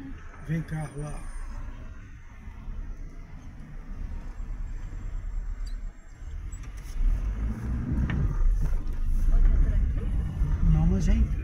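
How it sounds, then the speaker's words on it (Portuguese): A car passing on a town street in Araruama, its engine and tire noise building toward the end over steady traffic background, with people talking over it. "Vem carro lá."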